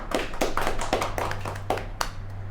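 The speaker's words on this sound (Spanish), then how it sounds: "pero antes, un fuerte aplauso." A few people clap in a small room for a podcast guest in a short, sparse burst of separate claps, steady at first and thinning out toward the end, over a low steady hum.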